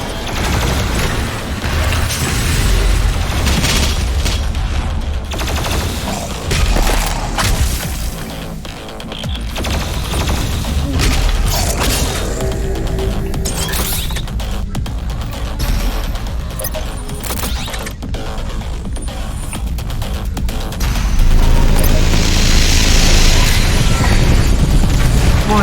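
Loud, dense in-game weapon fire and booming blasts from the BFG 10,000 cannon in DOOM Eternal, a sustained roar of explosive impacts that swells even louder near the end.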